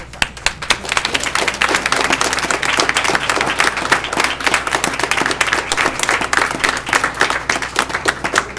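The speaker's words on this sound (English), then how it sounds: "Another round of applause." Loud, sustained applause from a crowd at a school board meeting, dense clapping filling the whole stretch without a break.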